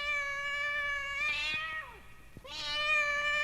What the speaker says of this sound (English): a black cat yowled.